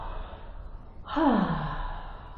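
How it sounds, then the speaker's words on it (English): A deep breath drawn in, then let out on a breathy "ha" during a guided breathing exercise; a single close, soft inhale-exhale swell heard alone, with no talking over it. "breathe in and do a ha, release breath"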